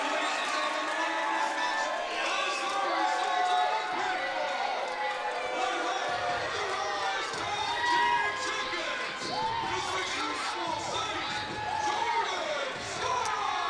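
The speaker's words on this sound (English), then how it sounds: "This crowd has lost their mind." A wrestling crowd at a live independent show cheers wildly, a sustained roar of screams and shouts filling the hall, with a commentator talking excitedly over it throughout.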